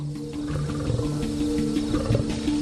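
Lions roaring at night on the savanna, low rumbling, overlapping roars and grunts at moderate distance, continuous and without speech.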